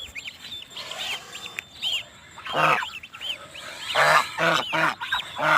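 A goose honks repeatedly in loud, harsh bursts, close by, with short pauses between calls and no talking.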